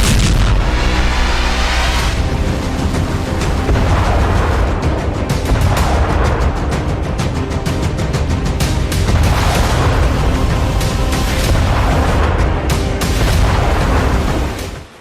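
Artillery shelling and serial explosions in the Nagorno-Karabakh war: loud, continuous booming with repeated sharp blasts and crackling bursts piling into a dense roar that barely lets up.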